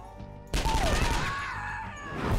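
Enemy gunfire in the Skyshine's Bedlam wasteland game: a sudden loud burst of rapid shots that keeps rattling and roaring, with a whining tonal sweep in the mix, preceded by quieter game ambience.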